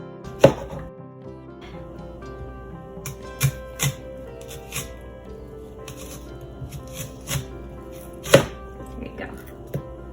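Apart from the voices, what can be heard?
knife slicing onion into rings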